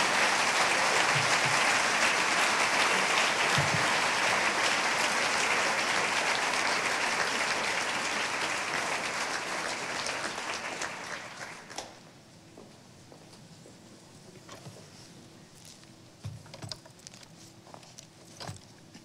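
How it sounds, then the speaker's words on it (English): Sustained audience applause at a 2018 Frederica Academy high school commencement ceremony, a dense, loud wash of clapping that holds for about ten seconds, then fades to scattered claps and quiet room noise. "Could everybody please rise and applaud the accomplishments of Constance Sullivan as she takes the podiu"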